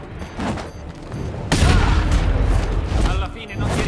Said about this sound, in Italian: Sparo via le ginocchia.